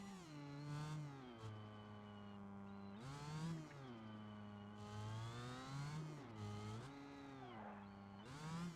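Car in the BeamNG driving game revving and accelerating around town, the engine note climbing and dropping repeatedly through gear changes, steady and fairly loud throughout with no voices over it.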